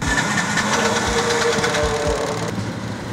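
A Bajaj auto rickshaw engine runs continuously with a rough, buzzing mechanical drone and rhythmic knocking, close and fairly loud, with a slight change in tone near the end.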